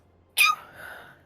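A single sharp sneeze close to the mic, a sudden bright burst that fades into a short breathy tail in an otherwise quiet room.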